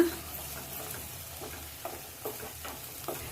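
Green ground paste being stirred into hot oil with cardamom, cloves and cinnamon for green paneer masala, a steady sizzle under repeated scraping stir strokes, close and moderate, no talking.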